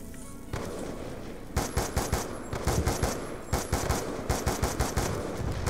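Rapid bursts of SMR rifle fire in Black Ops 2 Zombies on the Town map, loud and close, with repeated clusters of sharp shots separated by brief pauses, over a steady background hum.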